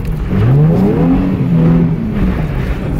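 Loud, close revving from a Nissan 350Z or BMW 3 Series sliding around a grassy field, the engine note climbing and sustaining steadily for about three seconds with no talk over it.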